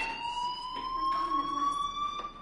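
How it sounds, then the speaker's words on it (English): A fire alarm rings in the video game Life is Strange, a steady high electronic tone with strong harmonics sounding continuously throughout, with faint background activity underneath. "Hey, do you hear that fire alarm?"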